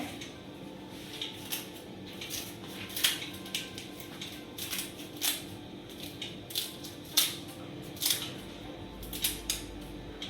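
Repeated crisp snips of scissors cutting mango leaves, irregular bursts of sharp clicks spread across the clip, close by with a quiet background.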